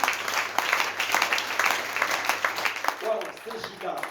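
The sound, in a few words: congregation applauding in church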